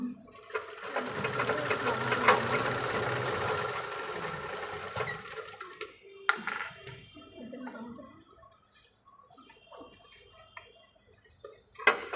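A sewing machine stitches fabric along marked side seams in a continuous, close whirring run for about six seconds, then stops and gives way to quieter handling clicks and brief murmured talk.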